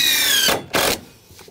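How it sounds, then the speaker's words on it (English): A power drill drives screws into the end of a cedar deck board, with two short, loud, whirring bursts close by and a fainter tail after them. "If you've ever tried putting screws in the end of a piece of cedar"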